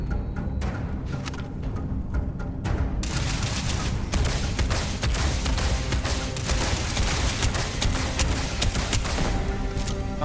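Mining turrets firing in Starfield: rapid, dense bursts of gunfire crackle continuously, loud and close, with sharp repeated shots layered into a sustained barrage.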